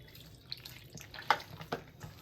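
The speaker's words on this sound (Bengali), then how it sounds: "এবার ওই কাপেরই আবার এক কাপ আমি জল দিচ্ছি" Water poured from a cup into batter for patishapta in a kitchen, a few soft splashes and drips, quiet and close, with no talk.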